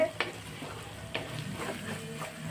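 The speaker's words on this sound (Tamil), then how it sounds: "வெங்காயம் நல்லா வதங்கிடுச்சு" Onions sizzle and crackle softly in a pan, with a few sharp stirring scrapes breaking through the steady frying hiss.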